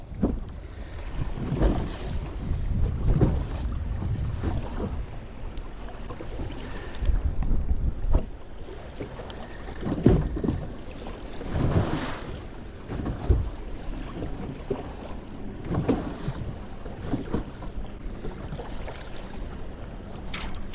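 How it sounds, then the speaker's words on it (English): Strong gusting wind of about 40 mph buffets a fishing boat on a Texas lake, with loud rumbling microphone wind noise and bursts of gusts over lapping water, and no speech. "Really focusing in on a good drop right now because this wind is just absolutely crazy."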